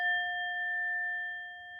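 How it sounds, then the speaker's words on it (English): A small singing bell bowl rings with a clear, high tinging tone, one pure sustained ring that holds steadily and fades softly in a quiet room. "small ones that are just little bell bowls that make a lovely"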